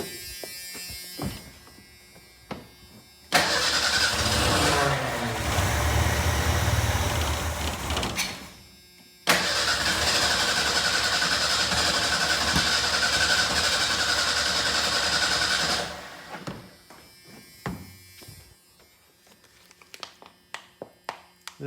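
A 1988 Ford Ranger with a replaced motor cranks and catches, running steadily for a few seconds, stopping, then restarting and running again before shutting off among light clatter.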